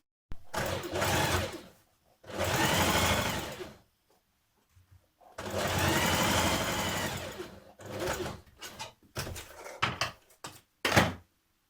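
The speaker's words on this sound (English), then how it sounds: "stay stitch the top of your other skirt pieces" A sewing machine stay stitches the tops of skirt pieces for a formal skirt, running in several loud bursts of steady stitching separated by short pauses, then ending in brief, choppy spurts.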